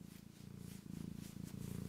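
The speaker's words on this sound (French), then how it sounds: "Elle est posée, elle ronronne, elle est bien." A house cat purrs contentedly, a quiet rhythmic rumble pulsing in even breaths, close and alone with no talk.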